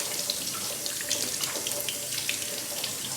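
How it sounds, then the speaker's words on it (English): Water runs from a kitchen sink tap to rinse lentils, a steady moderate splashing stream with small bright spatters, continuous throughout with no talking. "we're gonna turn the sink back on"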